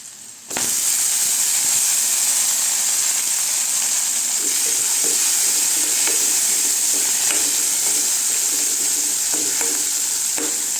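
Onions and green chillies sauté in a pan for kumutti keerai koottu, a steady loud sizzle that bursts in after a brief quiet start, with occasional light stirring clicks and no voices.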